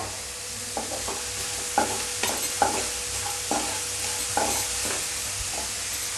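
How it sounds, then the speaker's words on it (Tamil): Finely chopped onions fry with salt in oil in a pan for a vegetable sandwich filling. A steady bed of sizzling runs throughout, broken by repeated scraping strokes of a spatula stirring, with no voices. "இப்போ லைட்டாக வெங்காயம் வதங்கட்டும்."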